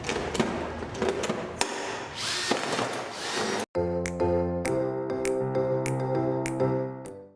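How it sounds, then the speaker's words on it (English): Drilling and riveting pieces for a solar bottle light: a rough power-drill whir first, then a brief gap followed by a sharp series of rivet-gun snaps and clicks over a steady mechanical hum, close and loud. "It's always good to rivet immediately after you drill to make sure that the holes are aligned."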